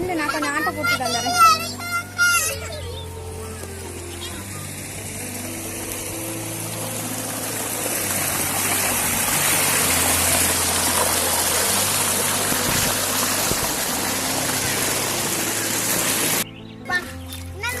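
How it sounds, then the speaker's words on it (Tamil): Well water pumped by a motor rushes steadily through a village tank, a broad continuous gushing under children's voices and occasional talk, starting after a few seconds of speech. "இந்த மோட்ரு கேணிலேருந்து தண்ணி எடுத்து இந்த தொட்டி வழியாக தண்ணி வந்துட்டு இருந்துச்சு"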